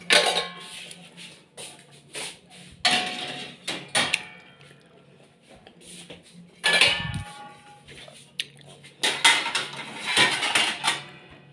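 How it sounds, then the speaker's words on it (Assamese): Dishes and utensils being tidied in a home kitchen: scattered clinks and clatters of pots, plates and cutlery come in uneven bursts, with pauses between them. "আৰু এতিয়া মই বাচন চাচনবোৰ চিজিল কৰি লওঁ।"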